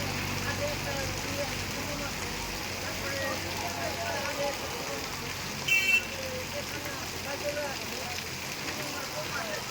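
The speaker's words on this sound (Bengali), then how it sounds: "দেখো কত জোরে বৃষ্টি হচ্ছে" Heavy rain pours down in Bhaluka in a dense, steady hiss, loud and continuous throughout, with no pauses.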